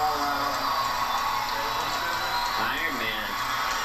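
A large X Games crowd roars and whoops for Travis Pastrana's best-trick run, a steady dense wall of cheering and shouting throughout, loud and close.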